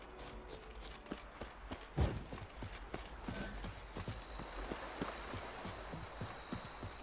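Horse hooves galloping in The Witcher 3 video game: a rapid, steady run of soft clopping beats over ambient game sound, moderately faint, with a brief thud partway through and no talking.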